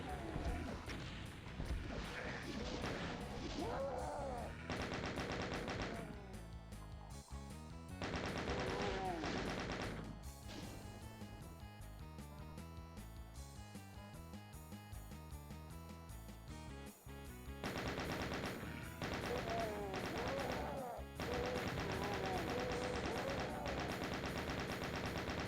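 Enemy gunfire and explosive bursts from Doom (1993), played on Ultra Violence in Knee Deep in the Dead, come in loud rapid clusters with brief lulls, mixed with game music and effects across the stretch.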